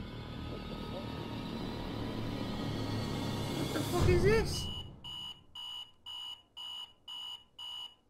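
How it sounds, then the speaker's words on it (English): An alarm clock in a horror video game beeps in a steady pulsing pattern of loud, evenly spaced tones, starting after a stretch of rumbling ambience with a rising whine. "Bastard alarm's waking me up."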